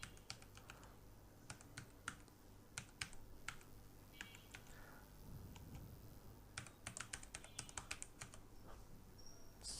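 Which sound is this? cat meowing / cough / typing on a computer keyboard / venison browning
typing on a computer keyboard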